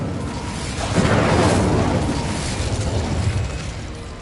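Fire spell cast in the Hogwarts Legacy video game: a sustained, loud whooshing burst of flame and rumble that swells after the first second and rolls on steadily to the end, with no talk.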